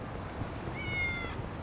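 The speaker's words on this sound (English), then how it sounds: "You heard it. It's our final cat." A cat meows once in the video game Yakuza: Like a Dragon, a short rising-and-falling call heard fairly close over a steady low game background.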